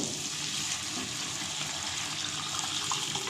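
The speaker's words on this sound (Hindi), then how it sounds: "अब इसमें मैं ऐड करूँगी यखनी" Mutton broth (yakhni) pours into a soup pot for mutton soup, making a continuous rushing, splashing liquid sound that stays steady and moderately close throughout.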